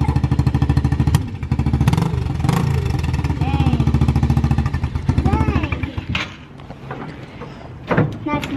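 A used dirt bike with a four-speed gearbox idles steadily close by with a rapid, even engine pulse, while people talk over it throughout; the running engine fades toward the end.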